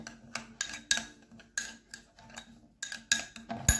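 Spoon stirring lemons and coffee together in a bowl, a series of light clinking, scraping taps in an irregular rhythm, close and fairly quiet with no talking.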